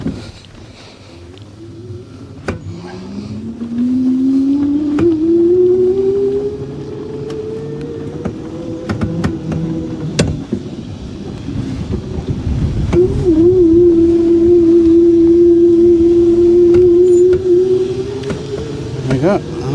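A 1903 Columbia Electric car driving flat out, its rising electric motor whine climbing steadily in pitch and holding a steady tone, with wind and road rumble over the whole run and no talk.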